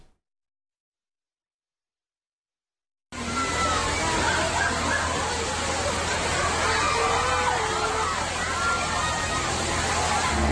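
At a crowded artificial wave pool in Jati Agung, Lampung Selatan during the Lebaran holiday, continuous splashing and sloshing water mixes with a distant crowd babble after a few seconds of silence.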